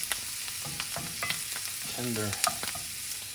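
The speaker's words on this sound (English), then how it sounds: "let that simmer, saute, whatever you want to call it" Venison and hen of the woods mushrooms sautéing in a pan for stroganoff, a soft sizzle under scraping stirs and utensil clinks, with a brief spoken word near the start.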